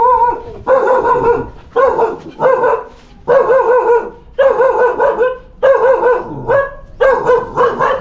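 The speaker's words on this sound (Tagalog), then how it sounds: "Parang kilala pa ako ng aso." A dog barks and yips repeatedly in short bursts, close by and loud, with brief pauses between the barking runs.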